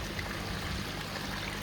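Water trickles through the filter media of a Bakki shower-style trickle tower in a pond filtration setup, a steady, close rushing trickle with no voices.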